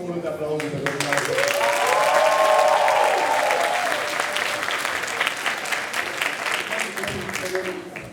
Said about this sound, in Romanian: Încă un rând de aplauze pentru dumneavoastră.